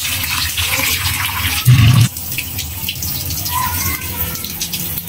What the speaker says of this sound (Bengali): এখন চালগুলো ধুয়ে নেব।